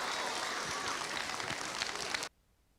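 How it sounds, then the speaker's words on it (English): Students in a school gym assembly give sustained, dense applause that fills the room and stops abruptly, leaving near silence. "Could we all give these students a massive round of applause for their work in representing our school?"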